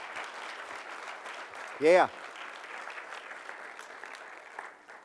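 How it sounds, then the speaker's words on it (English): A church congregation claps for its missionaries, producing a soft, even patter of applause from many hands that carries on steadily. A brief voice calls out partway through. "I want you to give them a clap."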